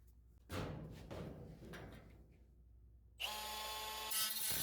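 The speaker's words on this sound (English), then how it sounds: "now on my first cut with the cutoff wheel, I'm going to come back and straighten that cut line up a little bit." A cutoff wheel slices through a car fender during a hood and fender gap repair, a steady high-pitched grinding whine that starts partway in and runs continuously to the end, preceded by quieter handling clatter and thumps.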